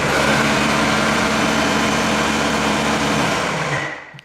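Ryobi 20-inch 40-volt brushless cordless electric snow blower running with a steady, fairly quiet motor whine and whirring auger, close by, then winding down and stopping at the end.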